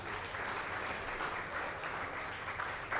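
Throughout this short stretch, a crowd keeps up steady applause for a guest at the NTA Awards 2024 open mic ceremony. The clapping is quiet and distant but unbroken from start to finish.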